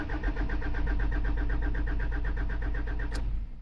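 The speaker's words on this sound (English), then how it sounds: "cranking no start fault." Toyota Prado with a 1KD diesel engine cranking over without firing, a steady rapid rhythmic starter churn that runs loud and close for about three seconds and then stops.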